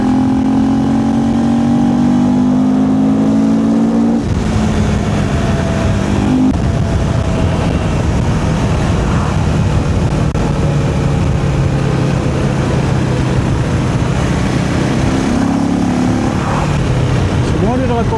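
A KTM 390 Enduro R motorcycle rides along a road, a steady droning single-cylinder engine with shifting pitch and heavy wind rush, heard close from the rider's position while someone talks over it.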